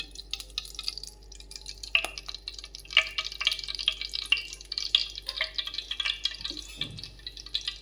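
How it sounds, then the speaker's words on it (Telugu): Cooking oil poured into a pot set on a gas stove, with a run of small close drips and splashes at irregular intervals over a quiet background. "ఈ విధంగా గ్యాస్ మీద గిన్నె పెట్టి ఆన్ చేసుకుని దానికి సరిపడినంత ఆయిల్ 2 డొక్కులు వేయాలండి."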